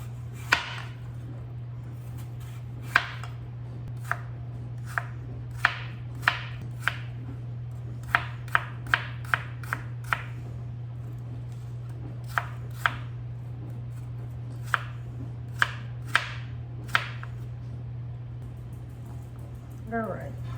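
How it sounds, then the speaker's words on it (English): A knife finely dices Gala apples on a board in a long series of crisp, fairly close taps that come irregularly and sometimes in quick bursts, over a steady low hum. "These are Gala apples I'm using tonight. But you can use whatever apples you enjoy. It says finely diced."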